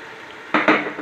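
Water poured into cooking masala with chopped green chillies for matar pulao, a sudden loud sizzling hiss that surges twice in close succession, close up and without talk.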